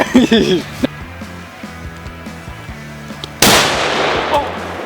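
A sharp gunshot cracks loudly near the end, fired at titanium and steel metal plates, following a voice speaking and a low idling engine hum.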